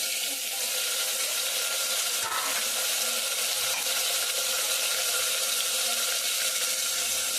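Chopped tomatoes hit hot oil in a pan while cooking a brinjal kadayal, giving a steady, even sizzle and hiss that runs through the whole stretch with no talking.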